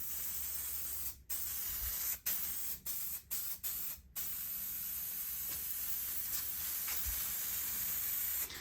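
SEM Color Coat plastic paint hisses from an aerosol can onto Datsun 280Z interior trim, a steady close spray broken by several short pauses.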